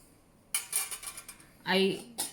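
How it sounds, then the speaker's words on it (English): A metal lid is opened on a masala spice box, giving a run of light metallic clinks and rattles followed by a louder scraping clatter and one final clink, close and clear with no talking. "Now see, I'm opening the lid."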